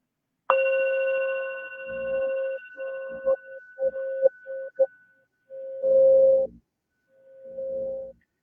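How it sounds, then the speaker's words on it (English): A meditation chime is struck once and rings with a clear, sustained tone that slowly fades. Soft, intermittent noises break in around it, and a second, quieter ringing tone follows near the end. "as you listen to the sound of the chime"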